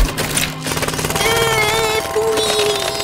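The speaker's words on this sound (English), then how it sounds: "Jackhammer!" A cartoon jackhammer pounds away at a frozen stream to break the ice, a loud rapid rattling hammer with whirring tonal layers running continuously throughout.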